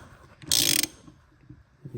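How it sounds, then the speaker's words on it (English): A 17mm ratchet tightens a bolt on a Lotus Elise S1 suspension bushing, a single short burst of rapid clicking up close, followed by faint handling noise. "17mm ratchet and start tightening this down"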